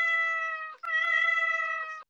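A cat gives two loud, close meows in quick succession, the first long and drawn out, the second slightly rising, with no talk over them.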